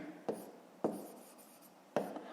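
A pen or pencil taps and scratches on paper in a math lesson, three short close strokes with quiet gaps between them and no talk.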